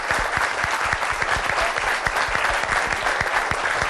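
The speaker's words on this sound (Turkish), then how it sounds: "Alkışlıyoruz." A crowd claps continuously at a celebration of a folk singer's 40th year in music, with dense, even applause sustained throughout and a few louder individual claps standing out.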